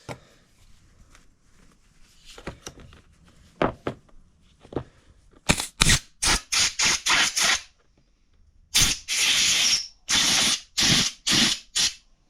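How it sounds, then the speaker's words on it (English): An air gun blows brake parts cleaner off truck parts in a series of sharp, loud hissing blasts, about ten short bursts in an uneven rhythm after some quieter clicks and handling noises, with no talking. "just letting it sit for a little bit with this brake parts cleaner and then just taking an air gun to it"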